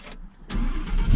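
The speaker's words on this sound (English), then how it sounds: "I'll just open the door for the startup sound." An Audi R8 V10 Plus starts up nearby: a brief starter whir, then the engine catches with a loud bark and settles into a rising, rumbling idle.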